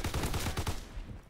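Rapid automatic gunfire in Call of Duty WWII multiplayer, about half a dozen punchy close shots in quick rhythm before trailing off, loud and unaccompanied by talk.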